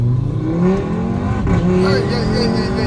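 An Audi RS3 Stage 1 with a five-cylinder engine revs loudly and close, its pitch swelling and rising in a continuous throaty drone as it accelerates.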